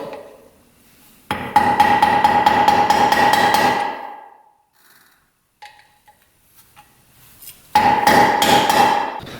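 Dimpling a part on a YFZ 450 quad with a hammer: two close bursts of rapid, ringing metallic blows, each a few seconds long, separated by a quiet gap with a few light taps.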